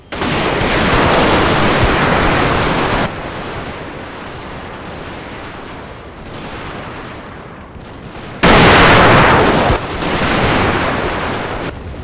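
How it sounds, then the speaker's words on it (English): Volleys of rifle and musket fire from defenders in a Total War battle between Zulus and Boers, a loud crackling fusillade, then thinner scattered shots, then another heavy burst of massed firing. "As the Zulus charged, the defenders opened fire with their rifles and muskets."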